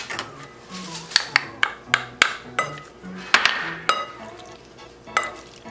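A spoon stirs shrimp ceviche with red onion and A1 sauce in a bowl, giving a run of close, sharp clinks and scrapes against the dish at an uneven, stirring rhythm.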